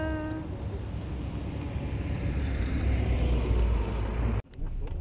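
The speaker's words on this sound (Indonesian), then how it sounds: "Ini saya lagi di mobil." Riding inside a moving car at night, a steady low road rumble and engine drone fill the cabin, with a brief thump near the end; no one speaks.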